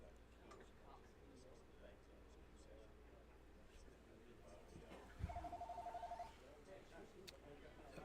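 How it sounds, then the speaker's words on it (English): A telephone rings once in a short burst of rapid electronic trills midway through, heard at a drag racing event at Motown Raceway in Modesto, California, against steady track ambience with a voice nearby. "Phone's ringing."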